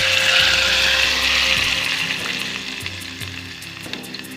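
A tomato, ginger and garlic paste sizzles hard in hot oil for paneer curry, a loud crackling fry that gradually settles into a softer bubbling hiss with faint stirring clinks.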